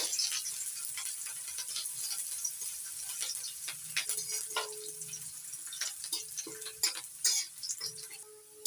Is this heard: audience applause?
no